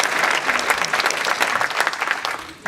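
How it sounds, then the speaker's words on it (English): A crowd at a closing ceremony claps for a woman who handled the prizes, a short, full burst of steady applause heard on its own. "So please give her a big round of applause for that."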